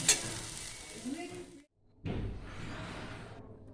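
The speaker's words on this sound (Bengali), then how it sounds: "লাউয়ের চোকলা একদম ভালোভাবে ভাজা হয়ে গেছে বন্ধুরা" Bottle gourd peels fry in a pan with a steady, close sizzle that cuts out briefly and then resumes at full strength.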